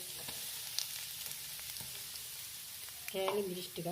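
Dried chilli pieces fry in oil in a pan, giving a loud, steady close sizzle with occasional stirring scrapes and a brief tonal utensil squeak near the end.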